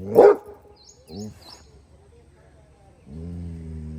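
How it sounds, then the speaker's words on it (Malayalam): A dog gives a loud bark at the start, followed by a couple of softer barks, with a person talking over the end. "അപ്പൊ അവരെ നോക്കി കുരക്കലാണ് ഇവന്റെ മെയിൻ പണി"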